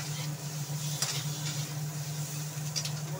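Onion and tomato sizzle while frying in a pan, a steady soft hiss with light stirring scrapes, heard up close with no talking.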